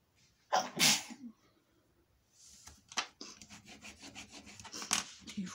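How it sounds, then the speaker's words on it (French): A person lets out one loud, sharp sneeze close to the microphone. Soft rasping and rubbing sounds follow, like paper being worked during a craft session. "Hop, je vais éternuer."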